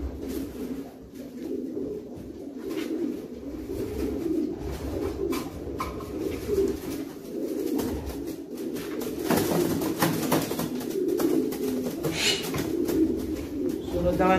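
Long-distance racing pigeons coo in a breeding loft, soft repeated low calls layered over one another at close range, with scattered rustling and a few faint clicks.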